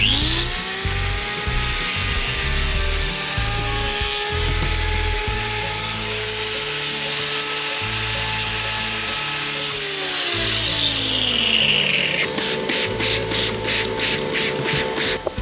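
A grinder trims the toe of a horse's hoof with a loud steady whine that rises and drops in pitch, a buzzing motor rumble beneath, and no talk.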